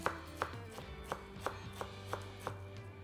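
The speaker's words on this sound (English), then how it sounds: "Just chopping fresh mint is such aroma therapy" A knife chops fresh mint steadily on a board, about eight even, crisp strikes at a regular rhythm, close by over a faint background hum.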